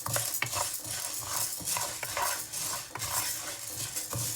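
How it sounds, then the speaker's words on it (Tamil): Flour dry-roasting in a pan for paal puttu, stirred continuously with a utensil: steady scraping and clinking from a spoon against metal, close and fairly loud, with a faint crackle beneath. "அதுக்காக நாங்கள் கைவிடாமல் இதை வறுக்கணும்"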